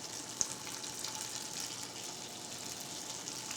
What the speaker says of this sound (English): nice little sizzle here so you can hear our oil is ready